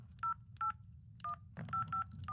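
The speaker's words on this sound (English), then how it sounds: "Hey, stop dialing." Telephone keypad dialing tones ring out as a series of short, clear beeps, about seven presses in an uneven rhythm, heard over a low background hum.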